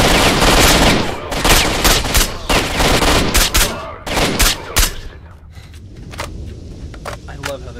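Rapid bursts of gunfire from a gun in the video game S.T.A.L.K.E.R. Shadow of Chernobyl, loud close shots in quick volleys that thin out into scattered single cracks toward the end.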